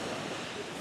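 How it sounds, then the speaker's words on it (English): Ocean surf washing onto the shore at Bangui during sunrise, a steady broad roar of breaking waves with some wind rumble, close and continuous. "waiting for the perfect wave to crash"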